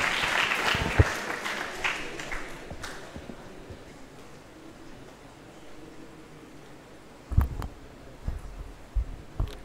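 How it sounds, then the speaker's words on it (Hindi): An audience at a seminar bursts into loud applause welcoming a speaker, the clapping fading over a few seconds to a thin scatter, followed by a few isolated thumps and handling noises. "जोरदार तालियों से उनका स्वागत हो जाए।"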